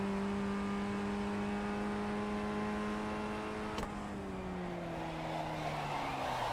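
In the iRacing video game, a race car engine holds a steady whining pitch that drops after a sharp click as the car spins out, with a soft tire scrub trailing off.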